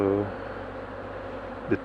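Honeybees buzzing around a beekeeper's hands plunged into the hive, a steady close drone with a brief louder swell near the end.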